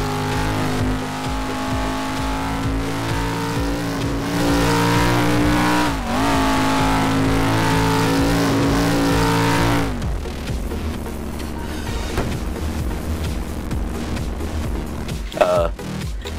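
A Dodge Challenger engine in Garry's Mod with the ACF mod revs loudly and steadily for about ten seconds, holding a sustained droning tone, then drops to a rougher idle with scattered clicks and a brief sharp pop near the end.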